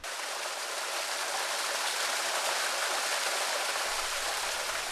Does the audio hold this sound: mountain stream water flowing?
yes